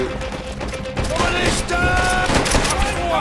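Gunfire in the video game Call of Duty: World at War, loud, close shots fired in a rapid run over busy battle noise, with a player's voice talking over it.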